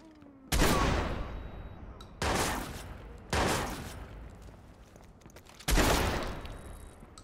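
Four loud, separate bursts of rapid gunfire in Watch Dogs, each a sharp volley that decays over a second or so, with brief quiet gaps between.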